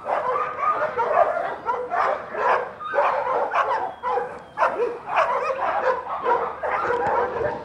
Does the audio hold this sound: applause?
no